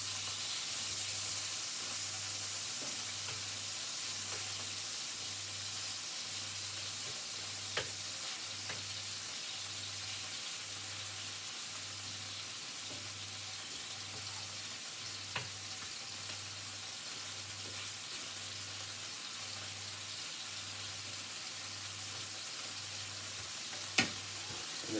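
Bacon and eggs fry in a pan with a continuous soft sizzle and hiss, broken by a few sharp pops, with no talking.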